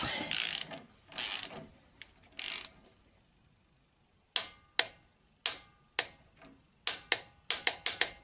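A ratchet wrench tightens a bolt to 20 Nm on a car's front suspension with torsion bars and upper control arms, first in a few rapid clicking bursts, then in a series of distinct sharp single clicks close up.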